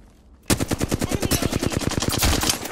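Rapid automatic gunfire in Apex Legends erupts suddenly after a brief quiet moment, a loud, evenly spaced burst of shots that continues to the end.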